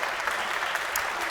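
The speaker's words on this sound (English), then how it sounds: "we'll give them applause when they come up" Audience applause welcomes a speaker at a seminar, a steady dense clapping from a crowd that stays even throughout the brief moment.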